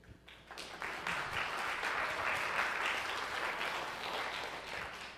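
Applause from a church audience at a town hall gathering, a sustained wash of many hands clapping together that swells quickly and holds steady for several seconds before tapering slightly.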